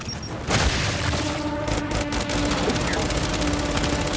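Gunfire and a grenade blast in the Gears 5 video game on Xbox One X, a loud, dense wall of explosive rumble and rapid shots that fills the whole stretch, with a voice speaking over it.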